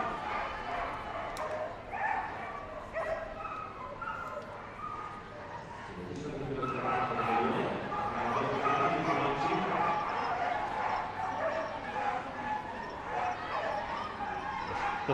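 Dogs barking and yipping excitedly at a Crufts flyball team relay in an indoor arena, with repeated sharp barks, crowd noise and an announcer talking over the din, growing louder and busier midway.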